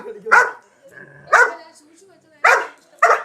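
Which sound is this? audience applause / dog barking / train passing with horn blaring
dog barking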